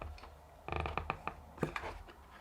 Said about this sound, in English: And you can create a vacuum.